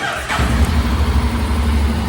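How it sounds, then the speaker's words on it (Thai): A 2017 Honda X-ADV 750 scooter engine fires up and runs, a loud close rumbling idle heard alone for a couple of seconds. "สตาร์ทให้ฟังเสียงเครื่องยนต์ครับ"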